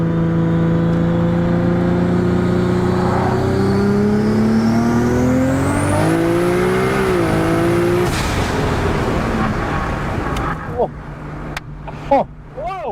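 A tuned GTR car engine revs hard and climbs in pitch, with quick gear shifts breaking the rise, then the roar fades as voices break in near the end.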